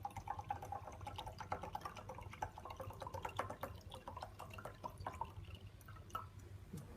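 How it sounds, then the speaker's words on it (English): Deionized water poured into a laboratory beaker to dilute a mixture, a soft continuous trickle with light drips, faint and close, without any talking. "dilute the mixture with deionized water to about 200 cubic centimetres"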